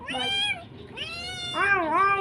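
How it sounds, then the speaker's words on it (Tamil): A cat visiting a house meows three times in close succession, each call a clear, drawn-out wavering cry, near and loud with quiet gaps between. "இங்கே வந்து எங்கள் வீட்டுக்கு வந்து ஒரு பூனை வந்திருக்கு. இங்கே பார்த்தீங்களா கத்துது"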